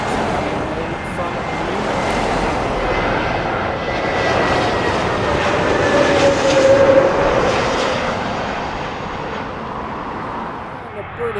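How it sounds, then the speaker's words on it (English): Lufthansa Airbus A320 arriving at London Heathrow, its engine roar swelling to a peak midway as it passes close with a whining tone, then easing off, with a voice heard over it. "Lufthansa A320 coming in from"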